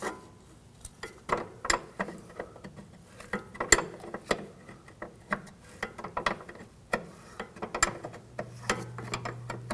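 A 13mm line wrench works loose a front brake hose line fitting on a 2001-2009 Volvo S60, giving close, irregular metallic clicks and ratcheting ticks with no talking.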